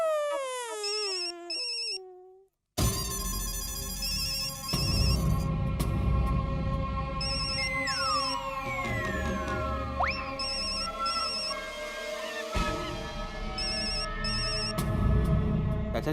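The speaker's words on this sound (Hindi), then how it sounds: "चाचा जी, आपका फोन बज रहा है।" A telephone plays a repeating electronic ringtone melody. It rings on clearly for many seconds, broken by a brief gap near the start, with faint background sound and no speech over it.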